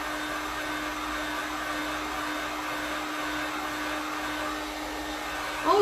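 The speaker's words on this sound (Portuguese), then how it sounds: "Quem não tem soprador, use o secador," Hair dryer blowing steadily to speed the drying of paint on an MDF Christmas tag craft, a constant close whooshing hum with a steady motor tone and no talk.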